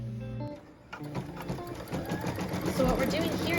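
A sewing machine runs steadily, stitching the batting placement line on a pieced quilt block, its quick mechanical whir close and continuous after a brief pause, with a voice talking over it.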